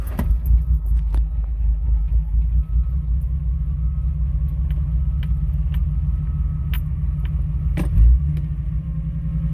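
Engine fitted with an Offenhauser dual port intake and carburetor idles low at about 1,000 RPM, a steady deep close-up rumble with occasional small clicks and a slight bump near the end.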